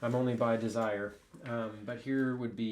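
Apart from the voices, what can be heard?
No everyday noises stand out.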